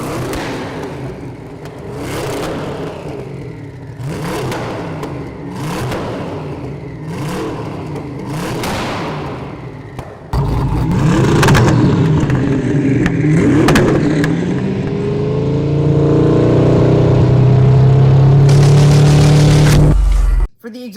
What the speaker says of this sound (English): taking a look at the engine sound, I like it. It's very throaty. It's a very deep, growly sound.